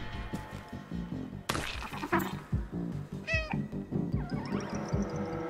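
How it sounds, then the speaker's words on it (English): A cat in the video game Stray meows among other game sounds: a close cry, thumps and clatter, and a chirping sound. Music and effects run underneath. "Probably shouldn't have meowed."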